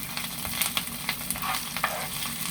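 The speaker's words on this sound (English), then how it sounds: "I'm gonna try to saute up some kale, and I've got some garlic in here" Kale and garlic sautéing in a pan, a close, steady sizzle with small crackles and occasional light stirring clicks, no voices over it.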